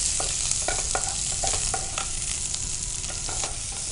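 Onions and cumin sizzle steadily in hot oil for mutton fry, a dense close crackle with scattered stirring scrapes and pops, no voices.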